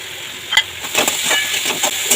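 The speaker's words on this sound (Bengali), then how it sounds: "এবার এটাকে আমি ভালো করে মশলাগুলোর সাথে মিশিয়ে নিই" Boiled banana flower mixed with spices in a pan, giving soft scraping stirs and a faint sizzle, with a few sharper clinks of the spoon against the pan at an uneven pace. No one speaks.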